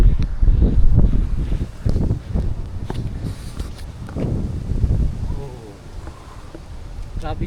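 Cold wind at an outdoor rock climbing spot in Macau buffets the microphone in heavy low gusts that rise and fall, with rustling and brief footstep-like sounds mixed in.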